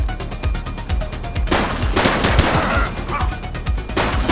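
Gunfire in the police video game The Precinct: loud, rapid bursts of shots in quick succession, with heavier overlapping volleys in the middle of the clip.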